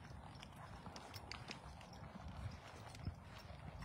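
A horse's hooves clop softly while walking, an irregular run of faint, distant steps over low background noise.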